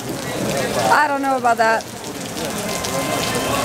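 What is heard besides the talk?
heavy rain pouring down outside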